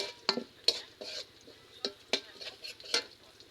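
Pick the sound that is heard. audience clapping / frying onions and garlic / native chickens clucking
frying onions and garlic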